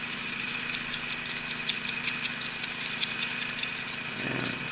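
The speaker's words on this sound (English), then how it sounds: "And a couple seconds of sanding," Steady, fine scratchy rubbing of sanding a seam line on a resin model, continuous and close, over a low constant hum, with no talking.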